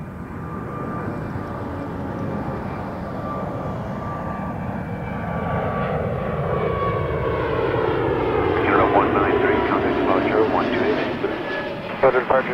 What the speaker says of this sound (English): I very much enjoy, for instance, Emirates rotating towards us.